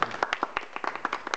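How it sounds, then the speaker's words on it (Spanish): A small audience claps after a talk on cultural initiatives for online activism, a brief burst of individual, distinct hand claps lasting just over a second, fairly close and moderately loud. "Un aplauso."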